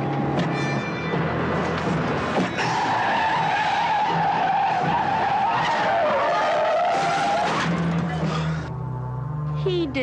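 A car skids hard after the brake is hit, tires squealing in a long wavering screech over a roaring engine, loud and close, with voices and music mixed in.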